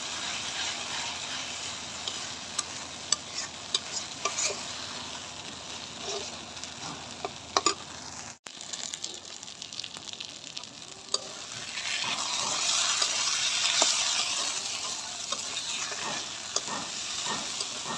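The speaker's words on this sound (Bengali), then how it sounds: "তো এখন এরকম করে নাড়াচাড়া দিয়ে আমি পানিটা একদম শুকিয়ে তারপর আবার আসতেছি।" Hilsa fish jhura being stirred and fried in a pan until dry, a steady close sizzle with frequent scraping clicks of a spatula against the pan, growing hissier toward the end; no talk.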